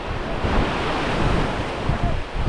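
Sea waves breaking on a beach in Kerala during the monsoon, a steady loud broadband roar of surf with wind buffeting the microphone, continuous and alone.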